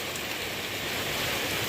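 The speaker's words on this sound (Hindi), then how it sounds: "ये देखो यहाँ आपको ज़्यादा पता चलेगा कि कितनी तेज़ बारिश आ रही है।" Heavy afternoon rain pours down in a hill village, a dense, unbroken hiss of drops hitting surfaces, loud and close with no breaks or voices.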